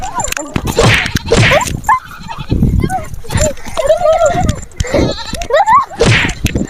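Goats bleat several times in loud, wavering calls during a Bakrid comedy scene about stealing goats, with people talking and shouting over and between the cries.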